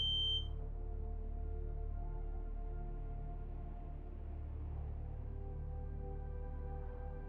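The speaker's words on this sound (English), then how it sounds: "Is that my smoke alarm?" A single short, faint electronic chirp from a home smoke alarm sounds right at the start, then only a low steady hum fills the rest of the quiet room.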